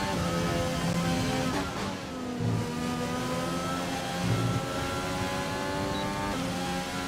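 A Ferrari race car engine in a racing video game drones steadily with a strong harmonic whine, rising and dipping in pitch as it revs through gear changes, constant and fairly loud.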